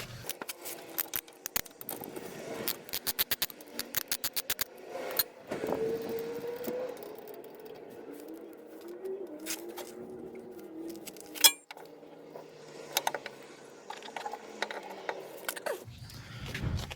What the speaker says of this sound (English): let's take out these two 14mm bolts